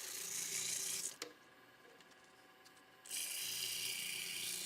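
Sandpaper is held against a turned piece spinning on a woodturning lathe, making a close, steady rasping hiss in two bursts with a quieter pause between them.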